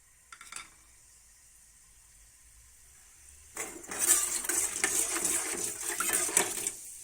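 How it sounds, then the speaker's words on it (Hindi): Fenugreek seeds drop into hot oil with a brief clink and then fry in a small pan, a soft crackling sizzle that lasts a few seconds and stays fairly quiet. "मेथी दाने को हल्का सा फ्राई करेंगे"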